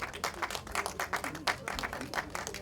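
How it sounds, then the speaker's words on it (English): An audience at a movie premiere gives a short round of applause, with brisk, fairly faint clapping from a crowd that continues evenly throughout. "A round of applause for him as he comes."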